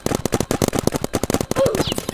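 A game turret fires in rapid repeated bursts, a dense stream of close, loud shots with a short whistling tone near the end.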